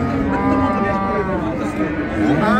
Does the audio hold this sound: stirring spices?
no